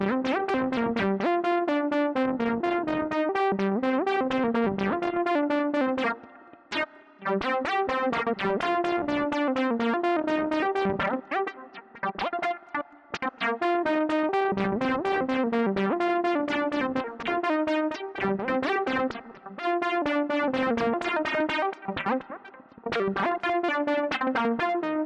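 A Spectraphon synthesizer, exponentially frequency-modulated by a sine wave, plays a bright, buzzy tone with rich metallic harmonics in a repeating pattern of notes, steady and loud, with short gaps between phrases.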